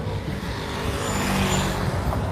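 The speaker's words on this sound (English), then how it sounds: "Here's another truck coming out with a lot of dirt." A dirt-hauling truck drives out of the main gate at SpaceX Starbase in Boca Chica, Texas, a steady rumbling engine and road noise that swells slightly as it passes nearby.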